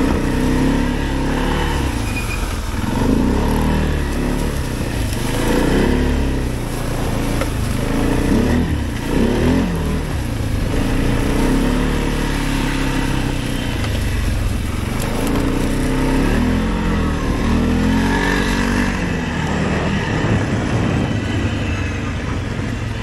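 An Arctic Cat 700 off-road vehicle's engine revs and drones steadily while being ridden, loud and close throughout with continuous rumble and shifting pitch.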